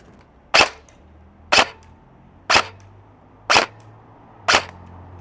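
A G&G Type 64 airsoft electric rifle fires five sharp, evenly spaced single shots through a chronograph, each crack loud and close, with quiet pauses between them and no talking.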